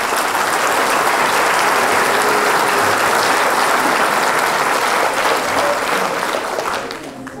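Sustained, dense applause from an audience honoring elected officials at a 2018 New Year's greetings ceremony for local development stakeholders, holding steady and loud before tapering off at the end.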